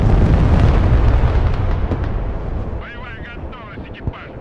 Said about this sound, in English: Good airstrike by him